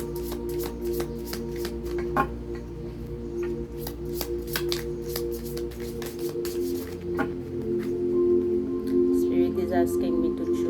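Tarot cards are shuffled by hand, giving quick papery riffles and soft slaps in irregular bursts, close up. A faint tonal hum sits underneath, and a voice speaks alongside.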